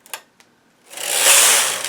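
Two light clicks, then the carriage of a knitting machine sweeps across a row of needles in a loud, rising-and-falling mechanical whoosh, close and alone.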